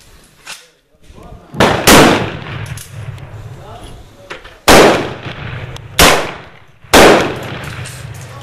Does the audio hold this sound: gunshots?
yes